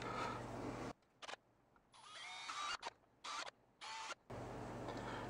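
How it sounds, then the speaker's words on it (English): A power drill whirs in several short bursts, starting and stopping, with the pitch shifting as it bites into the center of a jar lid, close by with pauses between. "let me get this hole drilled for you in the center"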